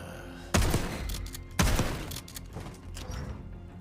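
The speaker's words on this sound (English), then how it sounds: "This gun seems a little loud." Gunfire in the video game Call of Duty: Black Ops 6: two loud, sharp gunshots about a second apart, each trailing off in a long echoing decay, followed by faint mechanical handling sounds.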